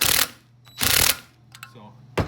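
An impact wrench knocks valve spring keepers loose in short, loud, harsh mechanical bursts, three in all, separated by quieter gaps with faint mechanical rattling.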